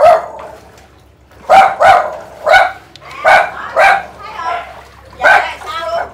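Dogs inside a flooded house bark in a run of sharp, loud, close barks spaced irregularly, with a few whimpering yips between them.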